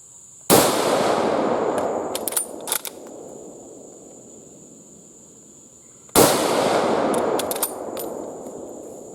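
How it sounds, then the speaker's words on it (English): A French MAS-36 rifle fires two loud, sharp shots about six seconds apart outdoors at a range, each followed by a long rolling echo and small metallic clicks and clanks of the bolt. "Alright, we're going to fire a couple more rounds."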